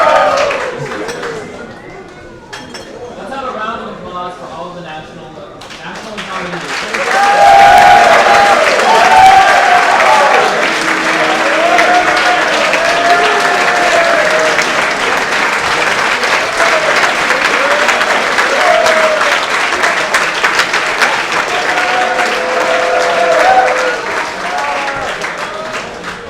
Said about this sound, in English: Let's have a round of applause for all of the national